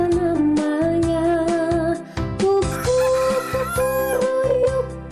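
A rooster's crow rings out over a bright children's song for a primary-school dance lesson, with repeated crowing-like calls heard against steady musical accompaniment.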